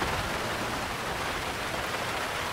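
Rain falls steadily in the video game GTA 5, a soft, even hiss of drops with no other sounds, fairly quiet throughout.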